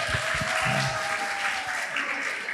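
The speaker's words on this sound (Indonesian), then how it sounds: "Tepuk tangan dong buat banker yang mancing ya." An audience at a club day event applauds with steady, dense clapping throughout, moderately loud with a brief voice underneath.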